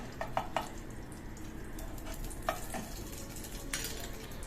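Ghee sizzling in a pan while paneer paratha fries, a quiet steady hiss with a few light clicks of utensils against the pan.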